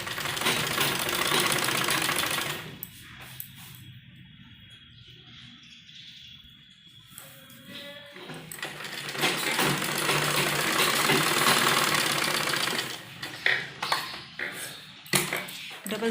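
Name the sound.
sewing machine stitching shoulder seam of a baby frock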